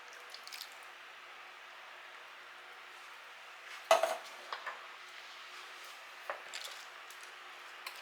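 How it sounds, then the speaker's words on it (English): Canned diced tomatoes are tipped from the can onto cabbage in a pot, a few soft wet plops and a clink of metal against the pot amid near silence. "Now I also have a can of tomatoes, diced tomatoes, that I'm going to put on top."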